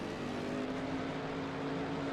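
Race cars roll through the pit lane at Misano in a racing video game, with a steady engine drone and a sustained tonal hum at moderate level and no talk.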